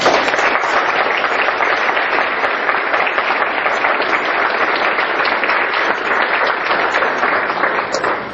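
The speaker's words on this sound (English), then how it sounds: "I would like the folks with Parkinson's to give them some applause right now." Audience applause for care partners and staff at a Parkinson's disease talk, a loud, sustained, even roar of many people clapping together from start to finish, with no voices over it.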